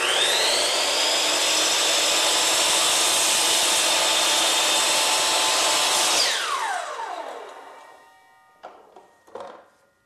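A miter saw making a back cut on a mitered piece of wood casing, a loud steady whine of the spinning blade that cuts off and winds down, followed by a few quieter clunks as the piece is handled.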